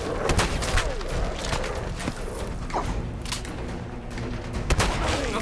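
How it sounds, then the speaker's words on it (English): Shotgun fire in the video game Fallout 4 comes as several sharp, fairly close blasts scattered irregularly over a busy background of game noise and footsteps. "Eat a shotgun to the face!"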